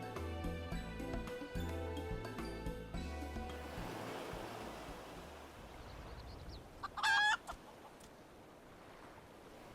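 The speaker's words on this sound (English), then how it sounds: "The chicken." A chicken in the Island Sanctuary video game gives a short burst of clucks after music fades into soft ocean surf ambience; the clucking is brief and fairly clear over the gentle waves.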